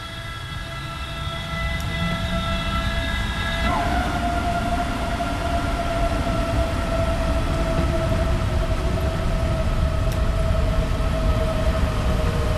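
A DB BR 423 S-Bahn electric multiple unit pulls away on the Munich S-Bahn in Train Simulator 2021, its rising motor whine and steady rumbling rolling noise building after a chiming tone sequence, loud and continuous without talk.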